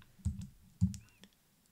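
Two quiet clicks from a computer keyboard as a command is typed, sparse and close, with a faint tap afterward in an otherwise quiet room.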